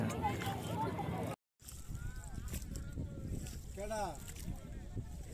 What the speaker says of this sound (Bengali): টলার পিকনিক শুরু হয়ে গেছে নদীতে পানি খুব বেশি ট্রলারের আমেজটাও লেগে গেছে